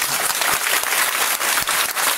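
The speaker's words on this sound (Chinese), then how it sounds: "今天要献给大家，我们掌声开始。" Audience applause at a talk, dense steady clapping from a crowd filling the whole stretch at full strength, with no voices over it.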